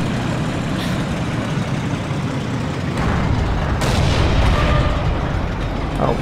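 In a Forgotten Hope 2 Siege of Tobruk battle, heavy booming gunfire and explosions crash over a constant rumble of engines, loud and near, with sharp reports and blasts breaking through the din.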